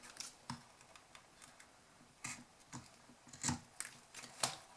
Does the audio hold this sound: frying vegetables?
no